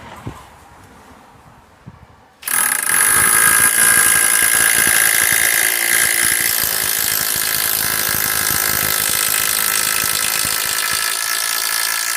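Power drill boring an 8mm hole into brick for a garden gate installation, starting abruptly after a quiet moment, then a loud continuous whirring grind with a high whine that persists to the end.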